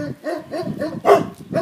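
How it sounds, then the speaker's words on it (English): Big dogs bark in short repeated bursts, fairly close, with a higher yip mixed in and puppies around. "Here's our big dogs."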